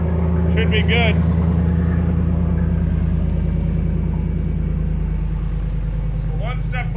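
An L83 V8 swapped into a Mazda RX2 race car idles close and loud with a steady, deep, throbbing rumble throughout, while a person speaks briefly over it near the start and again near the end.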